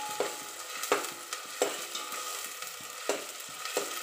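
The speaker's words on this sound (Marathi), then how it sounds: "कांद्याची ग्रेव्ही थोडीशी परतू द्यायची आहे." Onion gravy for pav bhaji sautéing in a pan while a spoon stirs it, giving a steady low sizzle broken by repeated scraping strokes at an uneven rhythm, close up with no voices.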